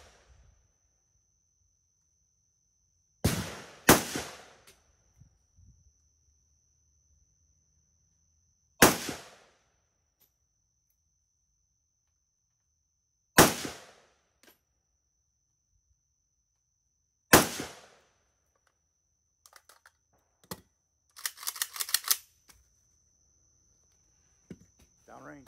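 A Hungarian AK63DS rifle fires single sharp shots at an outdoor shooting range, five loud cracks spaced a few seconds apart over a faint steady whine, with some quieter clatter afterward.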